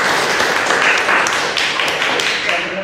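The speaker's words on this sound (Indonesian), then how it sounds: "Oke, luar biasa, tepuk tangan dong." An audience at an academic presentation claps in a dense, steady patter of applause, close and fairly loud, with no talk over it.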